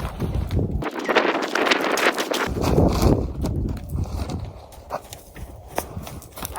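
A paint horse spooks out on an endurance training ride, its hooves thudding and scuffling on the ground in an irregular flurry, heard close against steady wind noise on the microphone.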